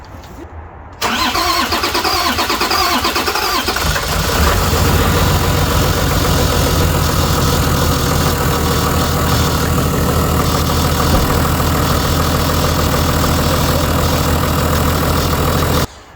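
A Toyota 100 Series engine cranks and catches after about a second, then settles into a loud, steady idle that runs on unchanged, close by.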